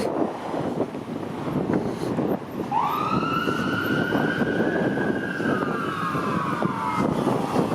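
An ambulance siren wails up and then holds a long descending tone, loud and fairly close, over rushing wind and traffic rumble on Lawrence Avenue West, North York, Toronto, during snow flurries.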